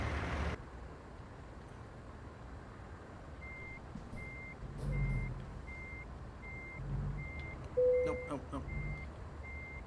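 Reversing beeps from a truck in American Truck Simulator, a steady evenly spaced series of short electronic tones over a low engine rumble, with someone talking briefly over it.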